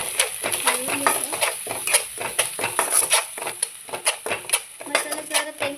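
A spiced eggplant and potato curry is stirred in a metal pan, with a steady run of close, quick scraping and clinking strokes of a spoon against the pan, loud and continuous, no speech.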